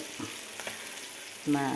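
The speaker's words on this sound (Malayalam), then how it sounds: "പിന്നെ ചിക്കൻ മസാലയൊക്കെ ചേർത്താണ് കൊഴുവ വറുക്കുന്നത് കേട്ടോ" Anchovies (kozhuva) fry in a pan with chicken masala, pepper and spices, giving a soft, steady sizzle that stays fairly quiet, with a brief louder burst near the end.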